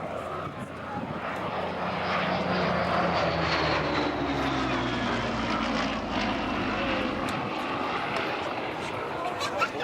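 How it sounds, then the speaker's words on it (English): A Hawker Hurricane Mark 2B is rolled out with its engine running, a steady, rough propeller drone that swells and holds at moderate distance while people talk over it. "So rolling this aircraft out in its current configuration"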